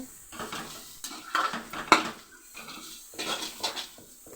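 Utensil stirring bitter gourd fry in a pan: scraping and clinking of spoon against metal in several bursts, moderately close, with no talking.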